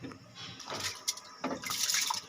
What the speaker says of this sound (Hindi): जो पानी मैंने बॉईल होने के लिए रखा था चावलों के लिए वो बॉईल हो रहा है।